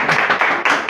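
A few sharp hand claps in a quick, uneven rhythm, used as a start signal during a classroom-style inertia experiment, close and fairly loud with no voices over them.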